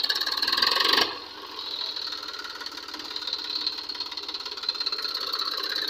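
An Eicher 380 tractor engine labours under heavy load, a close, rapid knocking diesel chug with a sharp burst at the start, then a steady, strained pulsing that builds slightly.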